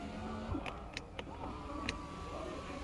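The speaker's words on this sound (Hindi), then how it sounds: "इधर मिल जाता है आपको ऑटो अप या ऑटो डाउन का फीचर ड्राइवर साइड विंडो पे ही विद एंटी पिंच" A driver-side electric window motor on a Skoda Kushaq 2022 Style 1.5 DSG running on one-touch auto up or down, a steady whirring hum with a few short clicks, close up and fairly quiet inside the cabin.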